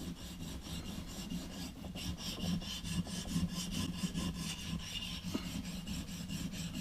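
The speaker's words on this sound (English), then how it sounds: "Let me add a little bit more fluid and go a few more strokes on the 300 grit." A steel blade honed on a 300 grit diamond plate with fluid, giving steady rhythmic rasping strokes up close, with no talking.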